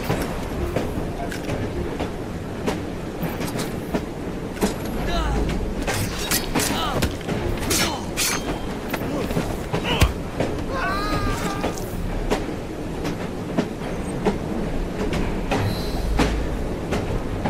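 A train rolls along in Assassin's Creed Syndicate, a steady rumbling clatter of wheels and carriages with intermittent squeals and clanks, continuous and fairly loud, with a voice speaking over it.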